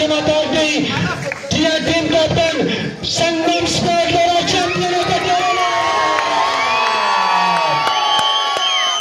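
A cricket crowd at a tournament final cheers, shouts and whistles loudly and continuously as the winning team is announced, with children's shrieks and high whistles rising near the end over dense, steady noise.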